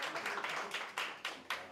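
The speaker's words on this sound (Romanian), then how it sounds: "Aplauze pentru Naș!" A party crowd applauds the godfather, with scattered hand claps swelling into a few bursts of clapping at a moderate distance.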